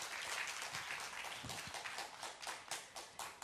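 Fairly faint applause from an audience at a Korean traditional music lecture concert, thinning into scattered individual claps over a few seconds with no voices.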